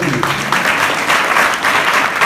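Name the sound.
audience applause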